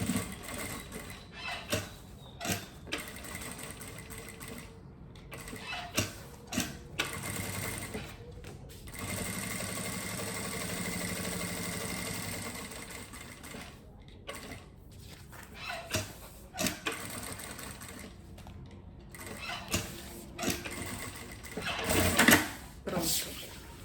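A sewing machine stitches a fabric zippered pouch in repeated bursts of rapid mechanical whirring, separated by pauses, with a person talking between and over the runs.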